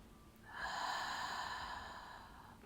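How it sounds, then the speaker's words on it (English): A person exhales a long, deep cleansing breath through the mouth during a guided breathing exercise, a soft steady airy rush that swells and then fades slowly over about two seconds, close and alone. "Inhale through your nose and exhale through your mouth."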